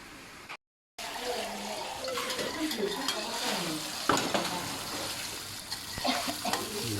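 Chili and garlic stir-fry in a pan ahead of a pork and bamboo shoot dish, a continuous close sizzle with clattering utensil strokes after a brief cut in the sound.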